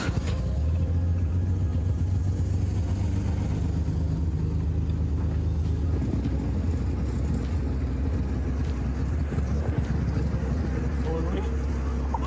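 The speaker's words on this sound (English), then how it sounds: "C'est ça le bruit quand j'accélère" A faulty vintage car engine drones with a loud, rough, low rumble while accelerating, heard from inside the car; people talk over the steady engine noise.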